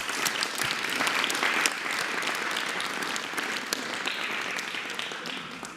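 Sustained, dense audience applause for teachers at the Mexican president's live morning press conference, steady and fairly loud throughout with no speech over it.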